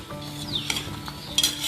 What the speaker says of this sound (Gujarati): સતત હલાવતા રહીને પકાવશું જેવી રીતના આપણે ખીરને પકાવીએ છીએ